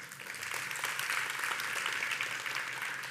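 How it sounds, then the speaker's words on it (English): An audience at the Devcon SEA tech conference applauds, a dense steady wash of clapping from a crowd, moderately distant and sustained throughout. "Let's give a hand of applause to Richard."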